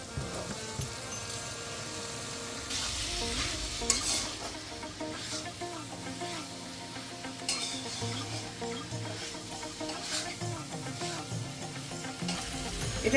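Boiled chickpeas are stirred in a frying pan, with a soft, steady sizzle and repeated scraping strokes of a spoon against the pan, along with light clinks of cookware, and no talking.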